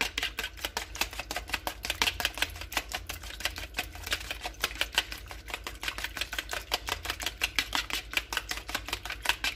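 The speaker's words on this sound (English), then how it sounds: "I'll just whisk that up" Egg wash whisked briskly in a bowl, a close, steady run of rapid light clinking ticks at about four to five per second, continuing evenly throughout with no talking.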